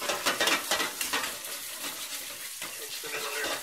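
A tablespoon of water hits a hot pan and sizzles, a bright crackling hiss with sputtering bursts at the start that settles into a steady simmering fizz.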